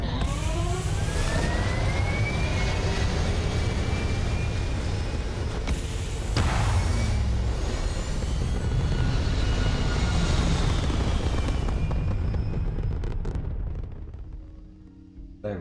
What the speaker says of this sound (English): Engine sounds really great in this game.